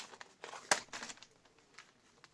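Paper bag crinkles and rustles up close in short bursts while being unwrapped, with one louder crumpling crackle in the middle, then softer handling sounds.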